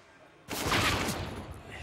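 Gunfire from a competitive video game match during an esports livestream, a sudden loud burst of rapid shots that cuts in after a quiet moment and stays dense, with a commentator's voice mixed underneath.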